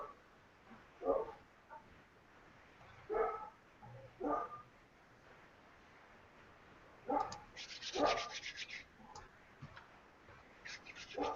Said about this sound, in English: She is a Great Pyrenees, and she feels it is her duty to keep the neighborhood free of wolves.